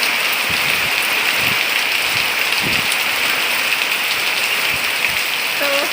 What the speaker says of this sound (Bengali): আবার দেখো এরকম ঝড় বৃষ্টি শুরু হয়ে গেছে